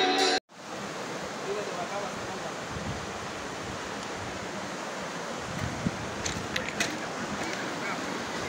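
A double waterfall in Chile's Maule region roars steadily and broadly, a dense, unbroken wash of falling water that holds its level from just after the start to the end.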